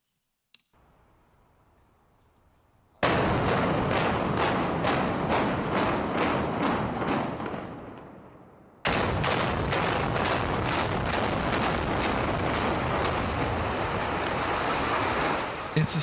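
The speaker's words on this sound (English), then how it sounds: "It's a sound of a building collapsing." A building collapsing as a sound effect: after a short low rumble, a loud dense roar of crashing debris with rapid rhythmic impacts fades away, then a second sustained burst of crumbling and pounding carries on to the end.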